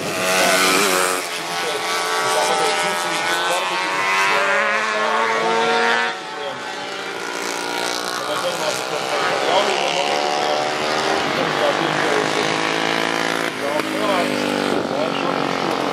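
Vintage Jawa motorcycles racing on a road circuit, loud high-pitched two-stroke engines whining and changing pitch as they pass and shift gears, with a commentator talking over them throughout.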